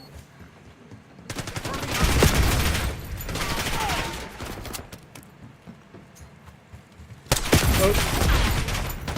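Rapid bursts of automatic gunfire in a Call of Duty match, two dense volleys separated by a quieter stretch, loud and close, with a brief voice exclamation.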